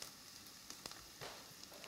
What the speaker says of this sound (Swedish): Fräs löken i smör och olja i några minuter.